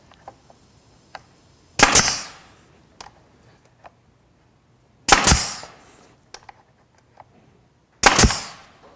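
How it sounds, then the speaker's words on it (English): A nail gun fires three sharp, loud shots, evenly spaced a few seconds apart, fixing a wooden fence to a crosscut sled. Light clicks and taps of handling fill the gaps between shots. "Then I'll use my nail gun and attach it to the edge to act as a fence."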